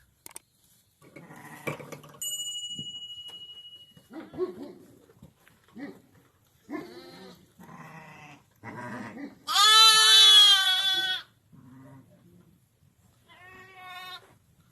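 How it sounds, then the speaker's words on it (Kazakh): Newborn Hissar lambs bleat in a series of thin, wavering calls, one long loud cry standing out among shorter ones, with occasional quiet noises between. "Міне Алланың қалауымен осындай қозылар келіп жатыр."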